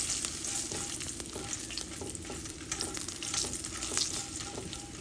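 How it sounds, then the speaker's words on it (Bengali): Peanuts fry in a pan of oil with turmeric and salt, making a close, continuous sizzle broken by stirring scrapes and light rattles, with no talk. "বাদামের ভিতরে একটু হলুদ আর লবণ দিয়ে বাদামটাকে ভেজে নিচ্ছি"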